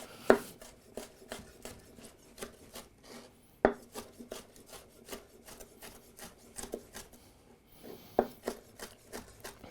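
A knife finely chops cherry tomatoes on a board with quick, steady, soft taps, plus a few sharper knocks, close and alone.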